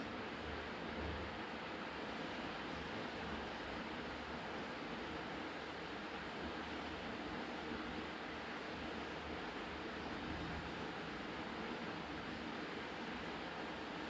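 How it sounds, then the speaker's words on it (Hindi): Steady Bay of Bengal surf with high waves roaring continuously, a broad wash of breaking waves mixed with wind buffeting the microphone, no voices. "देखिए कितनी ऊंची ऊंची लहरें जा रही है"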